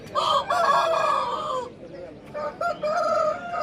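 A rooster crows loudly and close by at a chicken market in Vijayawada, a long strained call followed by a second shorter burst of crowing.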